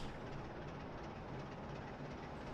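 Freight train rolling steadily at low speed on the Great Western Main Line in a train simulator game, a quiet continuous rumble with faint rhythmic wheel clatter and no voices.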